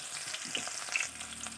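Onions hit hot oil in a wok, making a soft, continuous frying hiss with faint crackles across a short, quiet stretch.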